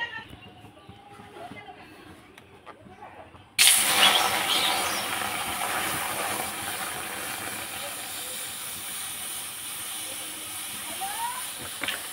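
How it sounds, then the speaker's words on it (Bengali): Milk poured into a hot kadai for making kheer gives a sudden loud hiss that bursts in after a quiet start and keeps sizzling steadily to the end. "কড়াই বসিয়ে দিয়েছি, এখন দুধটা আমি দিয়ে দিচ্ছি কড়াইতে।"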